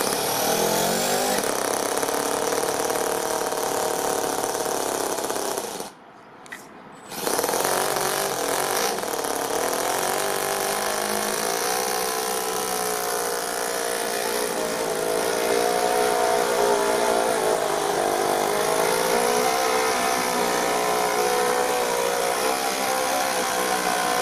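A small fuel engine with a slipping clutch strains to haul a 10 kg metal trailer, a loud buzzing whine that cuts out briefly near the start, then restarts and climbs in pitch as it labours steadily.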